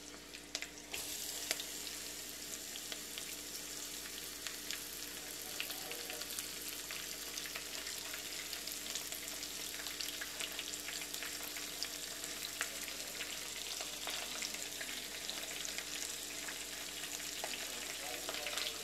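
Onions fry in hot oil in a pan for tomato rice, producing a steady, dense sizzle with light crackling that holds evenly throughout, close and without talk.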